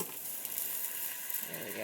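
Ground meat for a tater tot casserole sizzles and bubbles in a pan, a steady close frying hiss with brief stirring noises, under faint voices.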